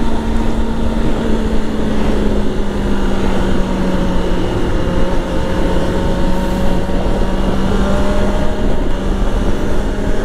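A motorcycle engine braking while riding home in traffic: a loud, continuous engine drone whose tone slowly sinks and shifts, mixed with rushing wind noise.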